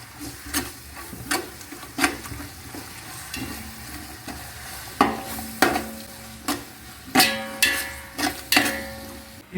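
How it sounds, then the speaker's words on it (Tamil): Ginger and garlic paste sizzles in hot oil in a pot for a chicken biryani, with repeated scraping stirs of a spoon every second or so over a steady frying hiss; no one speaks. "இப்போ நம்ம வந்து இஞ்சி பூண்டு போட்டுக்கலாம்."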